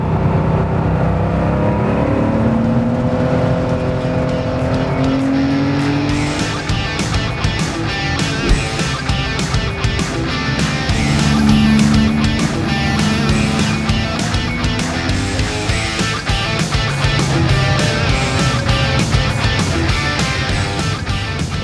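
An early Porsche 911 engine roars and revs up and down repeatedly, a loud throaty induction roar close by with no talking.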